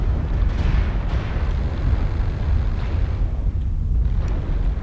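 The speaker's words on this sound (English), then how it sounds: "Warning, incoming missile." Incoming missile explosions from the video game MechWarrior Online form a continuous loud, deep rumbling roar of blasts with no clear pauses.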